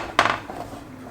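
A metal muffin pan holding heated oil is pulled from an oven, giving a brief clattering knock of tin against the rack with a few quick rattles, then fading into faint background noise.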